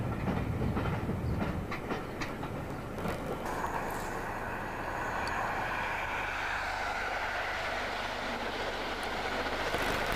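A train passes on the former Great Western Main Line near Old Oak, producing a continuous loud rumble with rhythmic clattering that gradually smooths into a broad, steady roar.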